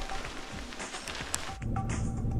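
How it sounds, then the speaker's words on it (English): Heavy rain pours steadily at an outdoor shooting range, a dense broadband hiss of drops on surfaces that grows slightly louder and fuller after the first moments, with no talking. "There's too much rain."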